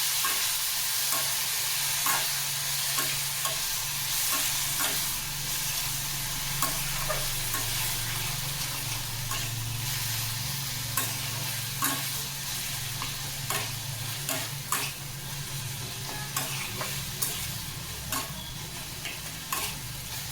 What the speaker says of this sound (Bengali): আর একটু হলুদ দিয়ে ভালো করে একটু নাড়াচাড়া করে নিলাম।